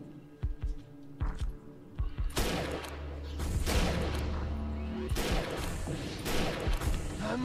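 Video game gunfire crackles in scattered bursts and sustained volleys, loud and close over a low throbbing hum, with impacts and crashes mixed in.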